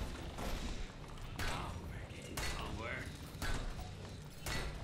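Repeated metallic hammering on a deployed turret in the Overwatch video game, a series of sharp clanking thuds roughly every second, mid-loud, mixed with game sounds.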